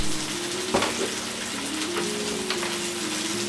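Yellowtail fillet frying in oil in a pan, a steady soft sizzle and crackle throughout with one sharper pop near the start, no voices.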